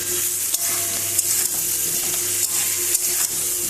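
Cauliflower stalks sizzle and fry in a pan with salt, a steady close crackle broken by several sharp scrapes and knocks of a spatula stirring.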